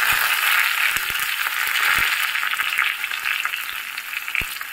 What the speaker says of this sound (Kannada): ಎಣ್ಣೆ ಬಿಸಿಯಾಗಿದೆ. 1/2 ಟೀಸ್ಪೂನ್ ಸಾಸಿವೆ ಹಾಕ್ತಿದ್ದೇನೆ.